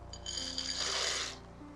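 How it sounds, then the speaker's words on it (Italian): Dry penne rigate pasta pours into a pot of boiling water with a quick, faint clattering rattle that swells and then tails off, heard alone. "E aggiungo le pennette."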